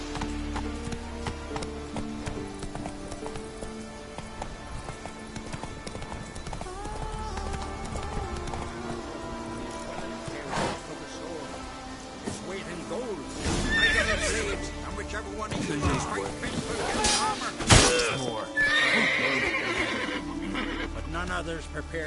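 Roach the horse neighs and whinnies amid hoofbeats in The Witcher 3 video game, layered over music and game effects, with speech passing through and a loud burst near the end.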